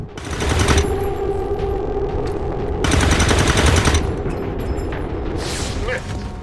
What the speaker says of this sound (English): Both of them missing their overwatch shots sucks.